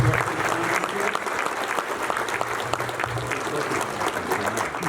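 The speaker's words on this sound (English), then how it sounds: "Could you give a round of applause to Best Pass and Isaac" An audience at a trucking industry hall of fame ceremony claps for event sponsors, a steady wash of applause from a large crowd that holds throughout with a few voices underneath.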